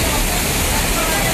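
Strong rushing floodwater current in Uttarakhand mountains, a loud, dense, continuous roar of churning water with no break, filling the whole moment.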